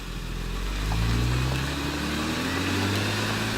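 A 4WD's engine idles steadily in low range, a close, continuous low rumble with a slight rise in pitch partway through.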